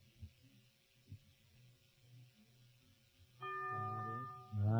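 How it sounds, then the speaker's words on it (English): A bell on a 1950s television quiz show rings out with a bright, sustained tone near the end, after a stretch of quiet room noise and a few low thumps. "The bell is tolled."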